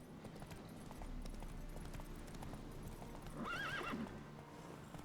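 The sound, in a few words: horse Roach galloping in video game The Witcher 3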